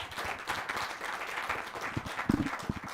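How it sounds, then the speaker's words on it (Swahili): Applause from an audience at a Kenyan government talk show, a thinner patter of clapping with a few louder close claps near the end. "makofi"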